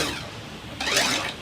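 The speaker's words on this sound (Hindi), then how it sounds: "बॉटल पर रूलर घिसने की आवाज।" A ruler scraped against a bottle gives a short, harsh scrape that flares up suddenly partway through, close and fairly loud, with no voices.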